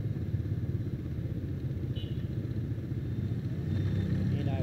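A motorcycle rides through evening traffic in Saigon, its steady low engine rumble close and continuous with traffic noise around it, while horn-like tones sound briefly in the background.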